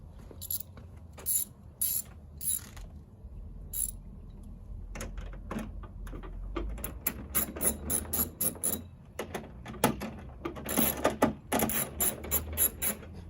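A hand ratchet works 8mm bolts loose on the hood of a 2015 Subaru WRX, giving bursts of close, quick clicking that start sparse and grow into longer, denser runs with brief pauses.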